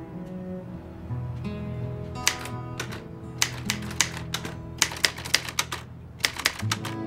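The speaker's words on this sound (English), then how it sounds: "punch the keys, for God's sake!" Typewriter keys are punched in irregular bursts of sharp, loud clacks over a low mechanical hum, the strikes speeding up and growing more frequent toward the end.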